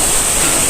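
Curug Citambur waterfall in Cianjur, a loud, close, unbroken roar of falling water heard briefly without voices.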